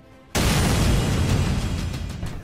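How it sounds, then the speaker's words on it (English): An unguided bomb dropped from an F-18 Hornet explodes in a sudden loud blast. A long rumbling roar follows and slowly fades. "you can drop what they call a dumb bomb, which isn't guided"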